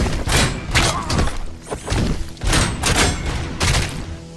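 Gunfire in the RoboCop: Rogue City video game, loud bursts of rapid shots with heavy thumping impacts, coming in several clusters with brief pauses between them.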